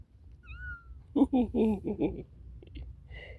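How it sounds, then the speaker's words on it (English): A calico cat meows several times in a row, close and fairly loud, with a quieter chirpy meow a moment later and a faint high tone early on. "That's my calico kitty."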